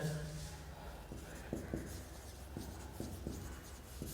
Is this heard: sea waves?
no